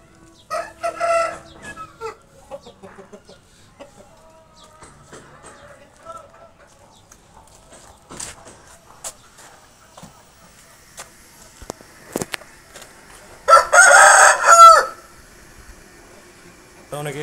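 An Indian Rampuri Aseel rooster crows in a loud burst and gives a few clucks, with sparse quiet sounds between and a brief voice early on.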